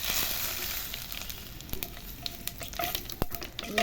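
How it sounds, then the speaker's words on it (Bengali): Cumin seeds, torn dried chillies and bay leaves sizzling in hot oil give a close, continuous frying hiss with scattered sharp crackles and pops. "তেল গরম রয়েছে, আমি তার মধ্যেই দিয়ে দিচ্ছি সাদা জিরে সোমবার। এরই সাথে দিয়ে দিচ্ছি দুটো শুকনো লঙ্কাকে আমি ছিঁড়ে।"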